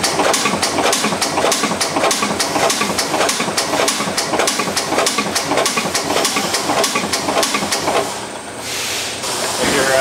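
A Pharmafill CS2 cottoner machine restarts on its own and runs steadily, giving a loud, continuous mechanical clatter with rapid rhythmic clicking that briefly dips near the end.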